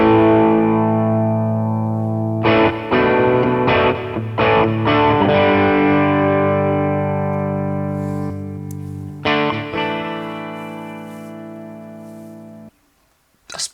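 Electric guitar played through a NUX Amp Academy Stomp amp-modeling pedal preset with delay: distorted sustained chords and single strummed hits ring out, with repeats trailing and fading into a decaying tail before a final short pluck.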